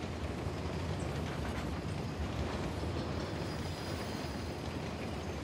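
A train rumbles along in Uncharted: The Lost Legacy, a dense, continuous rolling roar of rail cars with faint clatter, steady and without talk.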